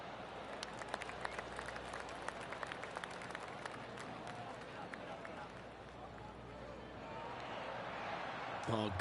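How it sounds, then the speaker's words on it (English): Golf spectators give polite, scattered applause after a shot, a soft patter of clapping with a few sharper claps, heard from a distance with people talking over it. "Oh, golf clap."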